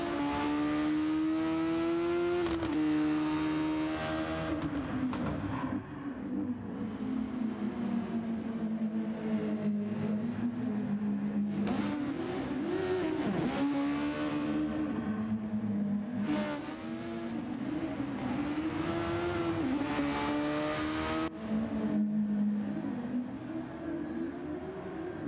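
SF19 Formula race cars racing at Spa-Francorchamps: a loud, continuous high-revving engine howl that rises and falls through rapid gear shifts, heard close and alone over the whole stretch.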